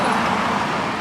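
Road traffic noise, a steady broadband rumble of passing vehicles, continuous and fairly loud for the whole moment.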